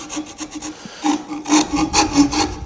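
A hand rasp shaping a piece of wood into the round, with repeated rough scraping strokes in a steady rhythm that grow louder and denser toward the end, close up with no talk.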